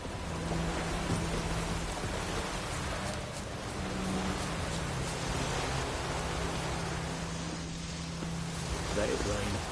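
Steady rain falls in the video game The Witcher 3, an even hiss throughout with a faint low hum underneath.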